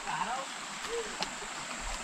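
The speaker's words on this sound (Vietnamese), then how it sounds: "Suối rất là đẹp các bạn" A flowing mountain stream at a scenic swimming spot, its steady rushing water in the background while people talk nearby.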